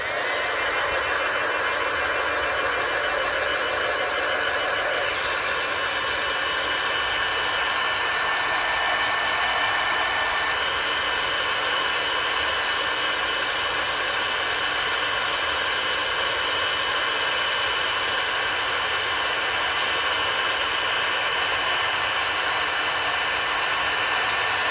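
A hair dryer blows steadily to dry a handmade craft piece, a continuous broadband whoosh that stays loud and even throughout with no talking.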